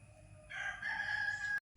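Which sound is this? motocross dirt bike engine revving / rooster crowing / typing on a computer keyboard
rooster crowing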